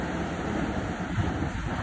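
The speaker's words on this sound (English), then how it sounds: "you can hear the sea going" Sea waves surge through a coastal cave connected to the sea, heard through a small hole in the grass as a continuous muffled boom and rush, mixed with wind buffeting the microphone.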